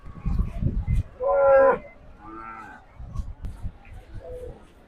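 A large bull lets out a loud, drawn-out moo close by at a cattle market, followed by a lower second call, with muffled voices and shuffling around it.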